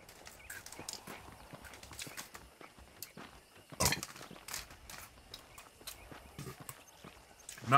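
Horse hooves clip-clop at a walking pace in the video game Red Dead Redemption, soft and irregular, with a faint whinny and muffled ranch sounds around them.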